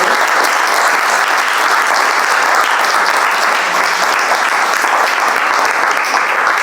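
Loud, continuous audience applause closing a Q&A session, thick and steady clapping from a large crowd that holds at full strength throughout.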